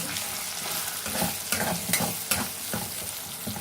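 Sindhi-style egg bhurji made with tomato and spices cooks in a pan with a steady sizzle. A spoon stirs and scrapes it in a series of clicks and scrapes.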